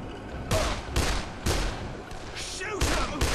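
Gunshots from the zombie game Dead Island: about six sharp, loud bursts in quick irregular succession, each with a short decaying tail.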